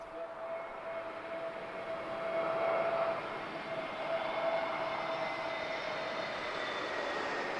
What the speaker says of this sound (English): Oh, arrival. TP673 from Amsterdam. This is an A321neo.